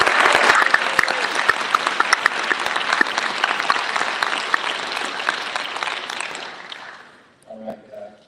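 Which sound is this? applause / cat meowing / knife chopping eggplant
applause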